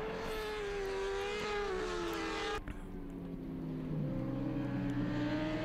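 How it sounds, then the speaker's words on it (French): Suzuki racing motorcycles in an FSBK race at Dijon, a loud continuous high-pitched engine wail that drops in pitch midway as the bikes pass and shift, steady and close with no talk. "Et malgré un super départ des Suzuki puisque Masson vire en tête au premier virage"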